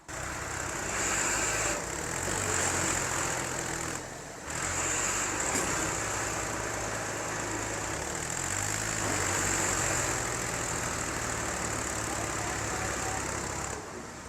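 A tractor engine idles steadily with an empty trolley hitched, in a rural farm setting: a continuous low rumble with a persistent high whine, fairly loud, lasting the whole stretch with only a brief dip.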